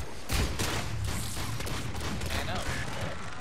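Enemy gunfire in Mass Effect multiplayer on the Firebase White map against geth forces comes as a dense, continuous barrage of rapid shots and booms, loud and unbroken throughout, with talk mixed underneath.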